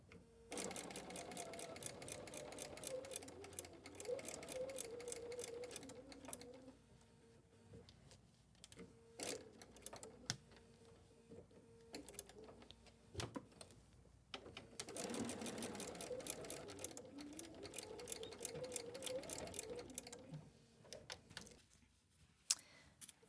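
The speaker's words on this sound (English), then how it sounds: "Now we stop and sew 1/4 inch all the way around." Sewing machine stitching a quarter-inch seam around a fabric ornament, a fast steady mechanical whir in long runs broken by short pauses and clicks, fairly close and quiet.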